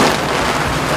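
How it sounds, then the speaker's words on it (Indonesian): Steady, dense rain pours down, loud and close, as a broadband hiss with no gaps and no voices. "Ya hujan."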